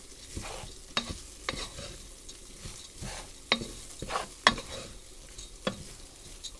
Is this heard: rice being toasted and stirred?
yes